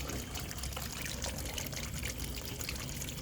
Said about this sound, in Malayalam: ഡ്രെയിൻ കൊടുത്തപ്പോൾ വെള്ളം ഇതിൽ വരുന്നുണ്ട്